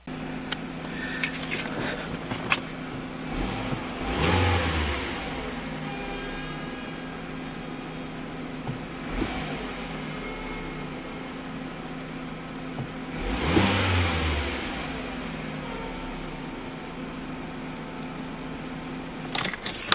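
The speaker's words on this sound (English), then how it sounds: "now the engine is running smoothly." A car engine runs steadily after an ignition coil replacement, holding a low, even hum with a couple of brief rises in revs, plus scattered clicks and rattles close by and no talking.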